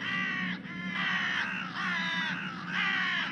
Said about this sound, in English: It's a murder of crows